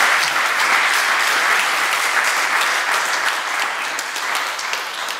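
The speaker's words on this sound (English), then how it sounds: "Give some round of applause to the panel at this point." Sustained applause from a conference audience for a Swiss blockchain community panel, a dense, even wash of many hands clapping throughout, fairly loud and close, with no talk over it.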